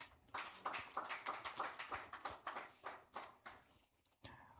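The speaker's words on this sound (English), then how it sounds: "Let's give me a round of applause, please." Conference audience applauding a speaker at a digital technology conference and exhibition, a fairly faint patter of scattered hand claps that swells, thins out, then picks up briefly again at the end.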